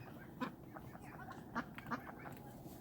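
Ducks quacking outdoors in the mountains, three or four distinct nasal quacks spaced irregularly at moderate distance over faint background noise, with no talk.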